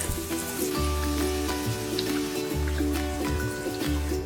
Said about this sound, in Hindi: so all my burgers coated and now let's fry these